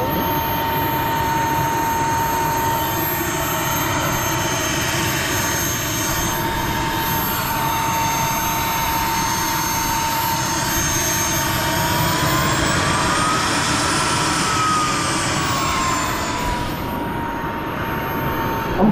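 An RC model L-39 Albatross jet at a jet rally airfield roars with a loud, continuous turbine whine and rushing blast, a high tone shifting slightly as the engine spools, heard up close.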